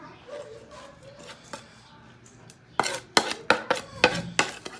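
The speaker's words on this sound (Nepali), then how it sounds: "अब चाहिँ यसलाई म यो अचारलाई मिक्स गर्छु" Fried chicken pickle is stirred together with ginger, garlic and spices in a kitchen, with soft scraping at first, then a run of sharp, rhythmic clacks of a spoon against a bowl or pan.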